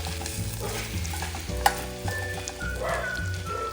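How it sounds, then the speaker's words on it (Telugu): Ginger garlic paste frying in ghee with onions while being stirred, for ghee rice; a steady close sizzle runs throughout with scraping stirs and one sharp clink of the utensil against the pan, no voices. "ఒక 1/2 టేబుల్ స్పూన్ అల్లం వెల్లుల్లి పేస్ట్ ఫ్రెష్ది వేసి కలుపుకుంటున్నాను"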